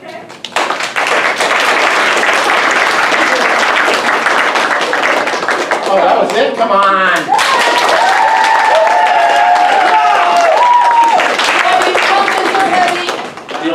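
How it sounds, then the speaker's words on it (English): Applause at an improv comedy show fills the room with loud, sustained clapping from the audience, with voices talking and calling out over it midway before the clapping tapers near the end. "so give Deborah a round of applause."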